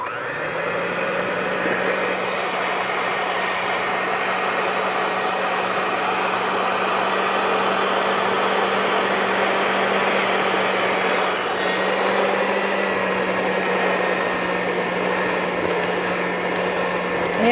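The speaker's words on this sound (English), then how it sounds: "You're going to do this until it gets too hard to do for your blender." A blender whirs continuously while mixing peanut butter cookie batter as dry ingredients are added, a loud, steady motor drone that holds for the whole stretch without talk.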